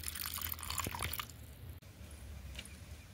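Water is poured over dried shrimp to soak them, a close, soft, continuous trickle and splash that fades after about a second and a half into quiet dripping.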